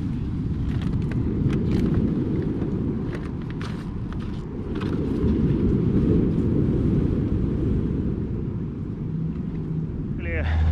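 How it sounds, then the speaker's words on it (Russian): A fishing motorboat engine on the Pacific Ocean drones steadily in a low rumble, swelling and fading slightly as it passes, with wind buffeting and faint ticks over it. "Рыбачки на катере"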